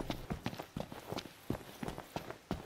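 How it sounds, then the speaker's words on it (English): Footsteps in Final Fantasy XV: a steady run of crisp, evenly spaced steps, close and fairly quiet, about four steps per second with no talking over them. "Ah, the rhythmic sound of footsteps."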